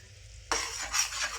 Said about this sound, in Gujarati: હલાવશું એટલે પેલી ગૂંઠ હોય તે બધી ભાંગી જાય।